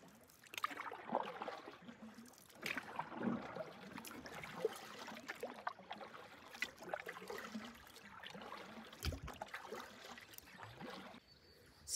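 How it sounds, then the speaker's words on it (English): A solo canoe is paddled across a quiet lake, with soft water swishes and gentle trickles recurring in an uneven rhythm, close and faint with no talking. "I gotta paddle faster."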